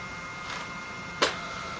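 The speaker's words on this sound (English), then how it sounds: "Now we're going to print to the wireless printer" A battery-powered wireless printer runs briefly at a quiet, close level, with a low mechanical whir and one short sharp click or snap midway through the page feed.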